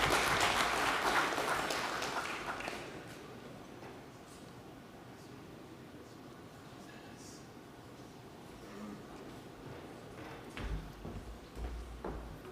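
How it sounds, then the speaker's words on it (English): Conference audience at an energy forum gives a burst of applause that swells loud for a few seconds and then dies away, leaving quiet room noise with scattered movement. "Another big round of applause, please, for Rebecca and Tamika"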